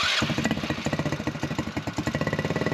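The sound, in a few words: buggy engine starting and revving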